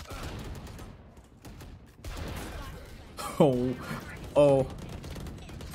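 Two sharp, loud shots from a slug shotgun in the Valorant video game, spaced about a second apart with ringing tails, breaking through quieter game sounds and a player's speech.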